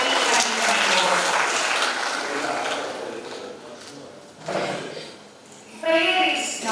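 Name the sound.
audience applause at conference opening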